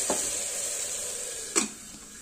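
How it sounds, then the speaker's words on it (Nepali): Tomatoes cooking in a pan for a pumpkin and chickpea curry hiss with a continuous sizzle, broken by two brief scraping strokes of stirring. "मजाले चलाएर टमाटर पनि पकाउनु पर्छ एकछिन"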